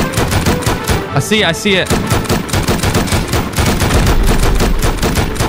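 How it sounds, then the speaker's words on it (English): An M2 heavy machine gun in the survival game Rust hammers at a SAM site in a dense, rapid stream of loud, close shots that runs almost without pause, while a player speaks briefly over the fire. "You can use the M2 and shoot the SAM site."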